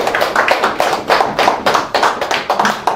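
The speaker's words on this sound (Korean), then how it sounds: "예, 박수 한번 치겠습니다." A small audience at a Korean breakfast gathering before a meditation lecture claps their hands in a rhythmic, pulsing burst of near, fairly loud clapping that swells and dips steadily for the whole stretch, with no talk over it.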